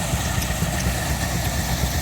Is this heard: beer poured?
no